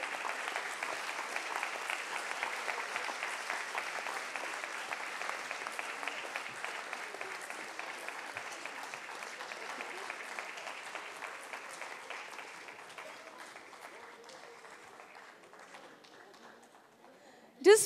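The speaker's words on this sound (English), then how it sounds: "Let us applaud their contribution." An audience at a corporate 10th anniversary celebration of BSE StAR MF applauds steadily, a dense patter of clapping that holds for about twelve seconds before thinning and fading toward the end.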